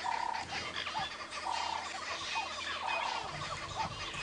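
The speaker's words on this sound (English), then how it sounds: "The birds are going ballistic." Several birds call insistently and repeatedly in harsh, agitated alarm bursts near lion cubs on a safari drive, overlapping one another at moderate distance, with no talking.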